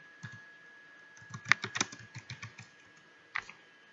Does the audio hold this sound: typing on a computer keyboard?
yes